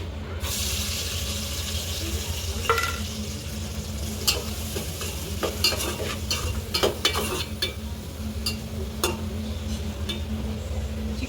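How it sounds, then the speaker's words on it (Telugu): Sliced onions and green chillies fry steadily in hot oil in a pan, a continuous close sizzle broken by scattered ticks and a few scrapes of a stirring spoon. "ఉల్లిపాయలను పచ్చిమిర్చి బాగా వేయించుకుందాం."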